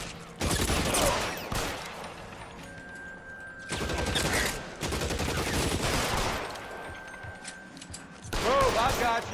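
Gunfire erupts in bursts during a shootout inside a movie theater in the video game LA Noire, sharp reports clustered in volleys with someone talking over and between them.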